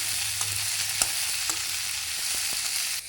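Green chilies and crushed garlic sizzle steadily in a hot pan for a coriander and urad dal chutney, a dense continuous hiss broken by a few soft clicks of stirring, with no voices.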